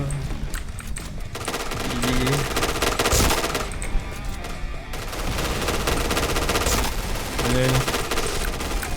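Rapid gunfire in the shooter video game Point Blank, sustained automatic bursts running almost nonstop over the whole stretch, loud and close, with a voice talking over the shooting.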